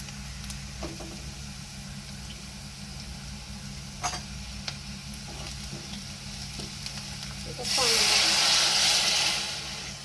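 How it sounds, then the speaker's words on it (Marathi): Gram flour mixture is sautéed in a pan, with a low continuous sizzle, occasional stirring scrapes and a louder hissing burst near the end, close by. "आता हे चांगलं आपण परतून घेऊया नॉर्मल ब्राउनिश कलर येईपर्यंत."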